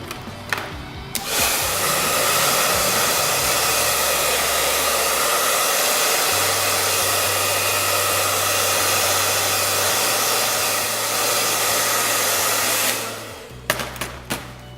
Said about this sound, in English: I'm gonna brush her hair back with the brush, and I'm going to direct the heat onto the hair.